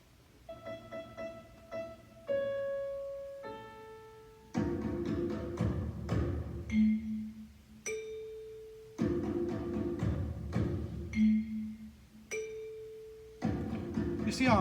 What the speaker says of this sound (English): She has a wonderful drum track to first introduce the first twinkle rhythm.